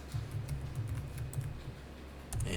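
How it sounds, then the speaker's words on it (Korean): Rapid, irregular clicking of keys being typed on a computer keyboard, fairly soft, over a steady low hum. "소액 현금이라고 한번 입력해 보세요."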